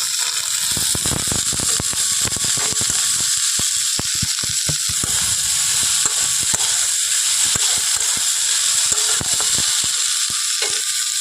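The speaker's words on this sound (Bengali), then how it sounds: "এখন আমি দিয়ে দিচ্ছি সেদ্ধ করে রাখা ডুমো" Boiled diced figs go into panch phoron spices and ginger paste frying in a pan for a Bengali village-style dish. A steady hiss of sizzling carries on throughout, marked by scattered clicks and scrapes of stirring.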